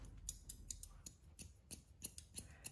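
Hairdressing scissors snipping through dry hair during a bob haircut, a series of quick, crisp, close snips in an uneven rhythm, fairly quiet, with no talking.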